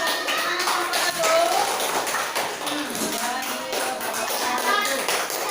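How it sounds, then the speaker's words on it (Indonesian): A class of students applauds a group after its presentation, a steady patter of clapping with some shuffling and faint background chatter throughout. "Kasih tepuk tangan kelompok 1"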